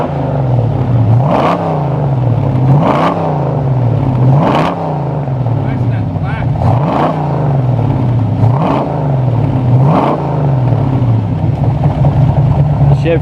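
A Holden 308 V8 fitted in a Jaguar XJ6 runs close by after its first start in ten years, giving repeated rising revs in a regular rhythm over a rumbling idle.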